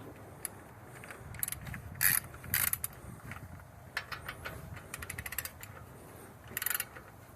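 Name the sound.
torque wrench ratcheting on Hyundai Accent suspension bolt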